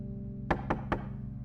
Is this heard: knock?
yes